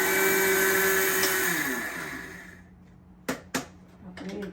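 A mixer grinder whirs loudly while grinding spices for buttermilk masala powder, then winds down and stops, followed by a few sharp clicks and taps of the jar.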